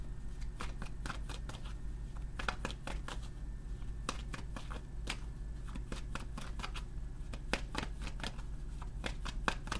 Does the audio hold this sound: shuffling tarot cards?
yes